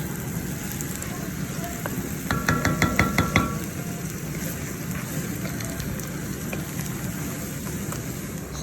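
Onions and celery cook in a gumbo roux, giving a steady soft sizzle and crackle throughout, with a brief burst of stirring or utensil clatter near the start.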